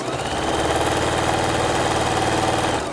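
A sewing machine stitching quilt fabric scraps with the seams pressed down, a loud rapid mechanical whir with a fast even pulse, steady and close throughout.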